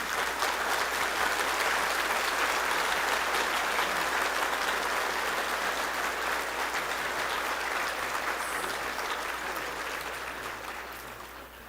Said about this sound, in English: let's welcome by standing, give a big applause,